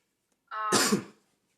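One close, abrupt sneeze: a short voiced intake bursting into a loud, breathy, noisy blast that fades within about a second. No talking around it.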